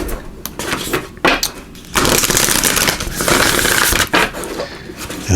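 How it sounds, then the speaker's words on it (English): A deck of tarot cards is shuffled close up, with bursts of dense riffling and sliding, brief pauses, then longer sustained shuffles, loud and with no voice over them. "Let's give these a good shuffle."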